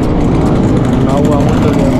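A motorcycle engine running at a lively roadside gathering, a loud dense rumble filling the whole moment with wind noise and a voice talking over it.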